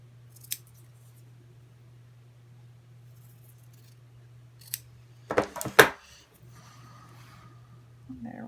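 Scissors trimming a paper craft piece for a Christmas card, a few quick close snips clustered near the end over a quiet room hum, with faint handling noises.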